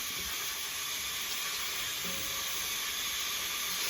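Spices for khichdi masala sizzle and fry in hot oil with cumin, a constant dense hissing crackle held at an even level, with no talk.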